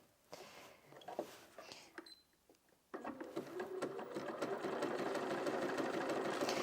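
A Bernina 475 QE sewing machine stitches in short bursts at first, then runs continuously in a steady, close, rapid whir.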